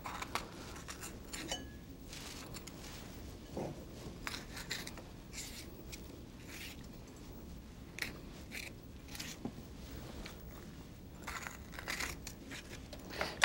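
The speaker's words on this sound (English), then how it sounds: "Let me just cut some peppers." Knife cutting peppers on a cutting board during Italian-American home cooking, heard as faint, irregular crisp snips and crunchy taps scattered across a quiet kitchen background.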